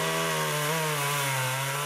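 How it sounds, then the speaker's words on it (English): A chainsaw cuts through cypress trees while logging, its engine a loud, steady buzzing drone with a slight wavering pitch throughout, close and continuous. "Still sawing cypress trees and pulling deadheads"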